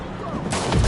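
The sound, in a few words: gunshots, probably from a video game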